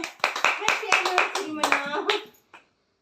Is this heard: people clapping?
yes